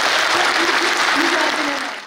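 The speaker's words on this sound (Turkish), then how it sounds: "Büyük bir alkış istiyorum." Brief burst of steady applause from an audience at a Turkish labour union event, dense clapping that fades out toward the end.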